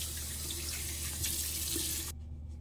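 Water gushes steadily from a bathroom tap while someone rinses off after shaving, a close, constant splashing flow that cuts off abruptly near the end.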